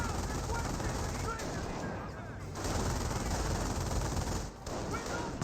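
Dense, continuous machine-gun and rifle fire pours onto infantry squads in the Company of Heroes battle, a loud sustained fusillade with only brief lulls, layered with a crackling wartime din.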